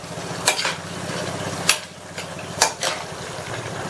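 A spoon stirs okra, onion and tomato through a boiling masala in a pot, with three or four sharp scrapes and clinks over a low bubbling simmer and no voices.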